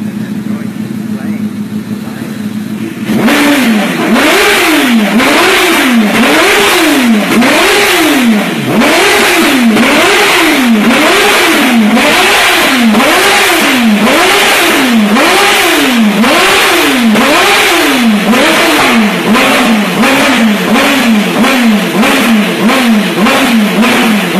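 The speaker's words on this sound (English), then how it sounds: "It keeps making this sputtering sound." Honda CBR 1000 RR motorcycle engine revving and sputtering up close, a loud, rapid, repeating rise-and-fall of revs with crackling pops over a rough idle.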